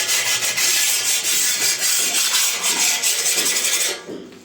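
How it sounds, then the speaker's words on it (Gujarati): Cut ceramic tile edges being rubbed with 60-grit emery paper during bathroom tile fitting, a loud, continuous rasping scrape in quick back-and-forth strokes that stops abruptly near the end. "ઘસો ને એટલે કંપની ધાર હોય ને એની જેવી ધાર થઈ જાય"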